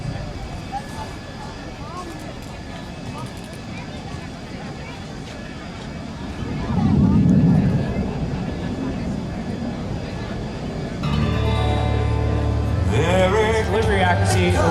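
B-2 Spirit stealth bomber passing over the Thunder Over Dover air show, a broad rumbling roar that swells midway and then gives way to louder engine noise, with an announcer speaking throughout.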